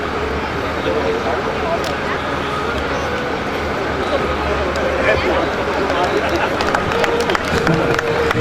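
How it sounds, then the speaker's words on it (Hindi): An audience claps steadily and densely at a Hindi comedy poetry gathering (hasya kavi sammelan) in Behror; the applause carries on throughout with a voice talking over it. "तालियां बजाते रहिए साहब"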